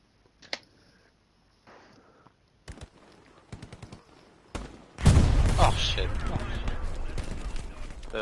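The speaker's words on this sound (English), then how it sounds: "The artillery." Heavy artillery barrage in the WWII shooter Hell Let Loose, starting with scattered gunshots and small bursts, then a huge close blast at five seconds that rolls into a sustained loud rumble of explosions.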